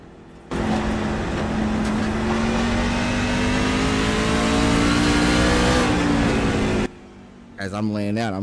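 A Super Truck Series race truck's engine roars steadily for several seconds as it climbs through the revs on track, loud and close, before cutting off and giving way to a voice.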